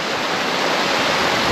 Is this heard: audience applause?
no